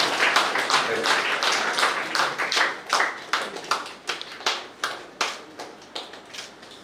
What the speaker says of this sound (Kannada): ಈ ಯುವ ಪ್ರತಿಭೆಗಳನ್ನು ಸದಸ್ಯರು ಜೋರಾದ ಚಪ್ಪಾಳೆ ಮುಖಾಂತರ ಪ್ರೋತ್ಸಾಹಿಸಬೇಕು ಅಂತ ಕೇಳ್ಕೊಳ್ತಾರೆ